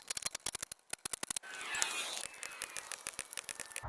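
Lug nuts on a 2013 Kia Soul rear wheel are worked with a wrench, giving a rapid run of sharp, close ratcheting clicks, then a brief hissing scrape before more quick clicks resume.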